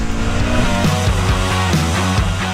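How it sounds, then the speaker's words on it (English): A V-twin motorcycle engine pulling smoothly under acceleration, a loud, close, steady drone whose pitch rises and dips with throttle changes. "The V-twin engine is pulling very smooth."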